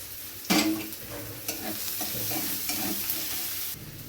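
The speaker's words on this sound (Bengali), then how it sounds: "পেঁয়াজটা একটু ভাজা ভাজা হয়ে গেছে, এবার আমি দিয়ে দিচ্ছি কয়েক রসুন কুচি করা" A sharp hiss as chopped onion and garlic drop into hot oil, then a steady sizzle with spatula stirs scraping the pan.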